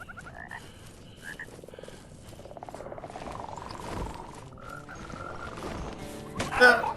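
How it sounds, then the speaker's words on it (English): A frog in the dark fantasy video game Mortal Shell lets out a drawn-out, rising croak that swells in the middle and ends in a sharp burst, heard alone against quiet game ambience. "That's a murder frog."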